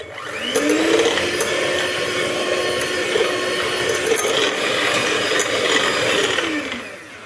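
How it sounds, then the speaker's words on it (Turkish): An electric hand mixer whisking cake batter in a bowl, a steady loud whining drone that ramps up, holds for several seconds with scraping rattle, then winds down at the end. "Yine çırpalım."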